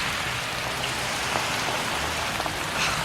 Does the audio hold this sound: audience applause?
no